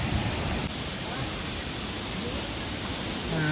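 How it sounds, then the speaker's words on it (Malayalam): Steady broadband roar of a waterfall at a beach resort area in Gokarna, Karnataka, loud and continuous throughout with no pauses. "ഇതാണ് വാട്ടർഫാൾസ്."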